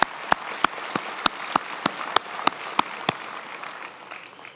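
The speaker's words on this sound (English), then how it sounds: "Let's give them a round of applause." Sparse, slow claps ring out at a university spring graduation ceremony, about a dozen sharp individual hand claps spaced evenly over a softer background of scattered clapping that fades toward the end.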